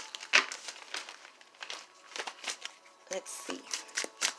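Tarot cards shuffled by hand in quick, crisp bursts of riffling and flicking, close up, with a brief spoken remark among them.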